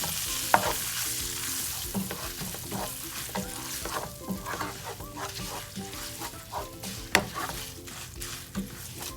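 Black pepper and fennel powder sautéing gently in a pan on low flame, a soft continuous sizzle with frequent light stirring scrapes and an occasional sharper clink, quiet and close.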